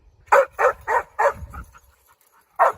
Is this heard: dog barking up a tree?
yes